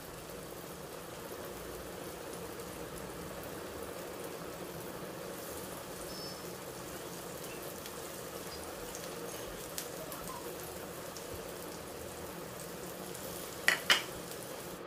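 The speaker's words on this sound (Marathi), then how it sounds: "मी ते सगळे माशांचे पीस रवा लावून तव्यावर ठेवले आहेत" Semolina-coated fish pieces fry on a hot griddle with a soft, steady sizzle throughout, faint and even, broken near the end by a couple of sharp clinks.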